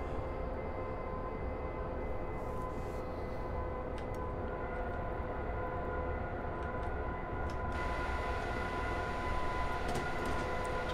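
A night train runs through valleys in the Train Simulator game, a steady rumbling drone of engine and wheels with sustained tonal hum and occasional faint clicks, continuous and unbroken.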